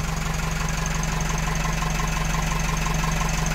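A narrowboat's engine idles steadily, a close, loud mechanical drone with an even, low knocking pulse throughout and no voices.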